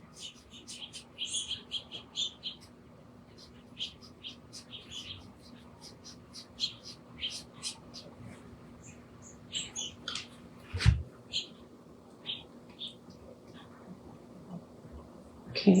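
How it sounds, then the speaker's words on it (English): Geese and other birds call outdoors, scattered chirps and squawks repeating irregularly at a modest distance over a quiet background hum, with one louder knock near the end. "the geese are crazy at this time of year. The birds are just really crazy completely."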